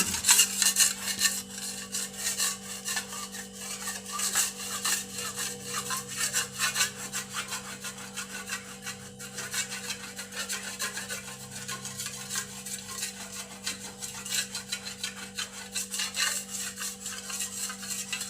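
Steady, continuous scrubbing of paint stains off kitchen wall tiles, a rhythmic abrasive rubbing that keeps going close by without pause, with a constant low hum behind it.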